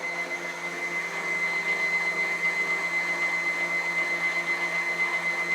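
An electric mixer whirs steadily and continuously while beating carrot cake batter, a constant motor hum close by with no talk.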